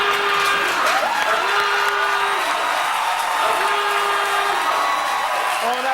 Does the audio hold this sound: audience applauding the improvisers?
yes